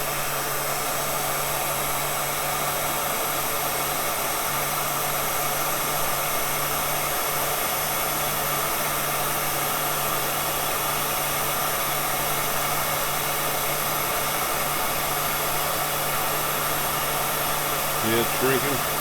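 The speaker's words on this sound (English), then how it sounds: "Alright, my little heat gun." A heat gun shrinking tubing on battery cables blows with a constant, airy roar and a faint steady hum, running unbroken from start to finish.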